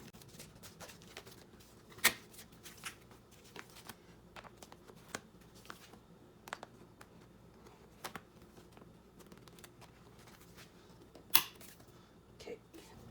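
Photocards from a J-pop collection are handled and slipped back into binder sleeves, giving soft, irregular paper and plastic rustles with a few sharper clicks and snaps, close and fairly quiet, with no voice.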